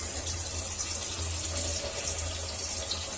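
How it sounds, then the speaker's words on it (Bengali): Dried chilies being washed in water, a steady close trickle and rush of running water like a tap filling a bowl, continuous with no voices. "এই জন্য শুকনা মরিচগুলো আমি ধুয়ে নিয়ে এই যে বোটাগুলো আমি ডুবিয়ে দিলাম"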